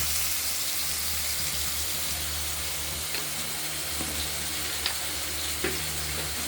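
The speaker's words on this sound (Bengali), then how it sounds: "তেলের মধ্যেই শুকনো লঙ্কা তেজপাতা দারচিনি দিয়ে আলুগুলোকে আমরা ভেজে তুলে নেব আলুগুলো ভাজা হচ্ছে" Potatoes fry in hot oil with dry red chilli, bay leaf and cinnamon, giving a steady close sizzle with a few soft stirring clicks and no talking.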